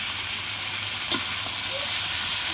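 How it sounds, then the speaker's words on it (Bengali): Ridge gourd and potato fry in a pan with salt, chili powder and turmeric, giving a continuous, moderately quiet sizzling hiss broken by a couple of light stirring clinks. "ভালো করে ঝিঙে আলু কষিয়ে নেব"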